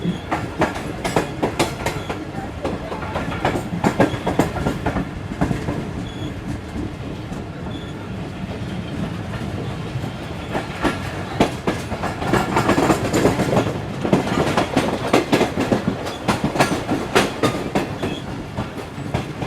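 The Karakoram Express passenger train passes on the Karachi to Rohri line in Pakistan with a continuous close rumble, rhythmic clickety-clack from the wheels and occasional squeals, growing louder partway through.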